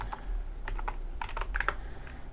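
A password is typed on a computer keyboard in short bursts of light, close key clicks with small pauses between groups of strokes, alone and fairly quiet.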